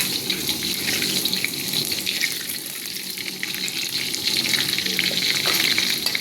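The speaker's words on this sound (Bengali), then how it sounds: "অলমোস্ট আমার চিকেন কোফতাটা ভাজা হয়ে গেছে। আমি অতটা ব্রাউন করব না," Chicken kofta frying in a pan, browned lightly for an Afghani chicken malai curry, gives a steady, close sizzle and hiss that runs without a break and has no talk over it.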